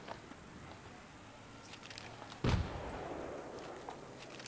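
Grenade blast in the video game Battlefield 3, a single sudden explosive boom midway through that decays into a lingering rumble over steady battlefield ambience.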